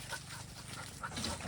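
Dog at an animal sanctuary in Thailand making short, soft sounds close by while eating, with a low rumble of background noise throughout.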